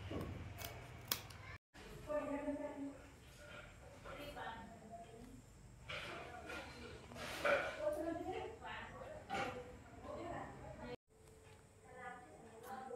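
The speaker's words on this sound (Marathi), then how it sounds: "अशा प्रकारे हे जे द्रोण आहेत आपण त्यांना कैचीच्या सहाय्याने कापून एक चांगला लूक" Scissors snip through dried palash leaf bowls with soft, irregular crisp cuts, while a person talks throughout.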